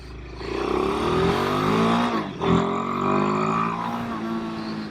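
A Royal Enfield Himalayan 452 motorcycle engine revs up close, its loud, rising exhaust note sweeping higher, dropping briefly, then climbing again and settling into a strong, steady drone.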